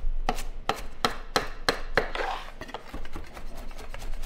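A knife chops fresh parsley on a cutting board for homemade burgers and fries, with about seven sharp, evenly spaced strikes followed by softer, quicker cuts, close up.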